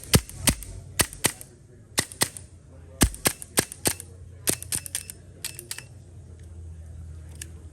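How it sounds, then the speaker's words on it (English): CO2 air gun fired at electronic targets, sharp loud pops in quick irregular bursts, some doubled, with brief quiet gaps and faint background murmur. "We're going to shoot these electronic targets."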